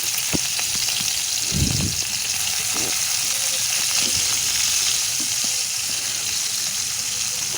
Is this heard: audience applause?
no